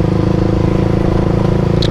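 An old carbureted Honda CBR 150R motorcycle engine running steadily while riding, a loud, close, rumbling drone with an even pulsing beat and no speech.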